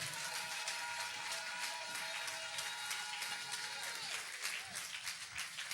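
A church congregation applauds together in a sustained wave of clapping that fills the room, then thins and fades toward the end.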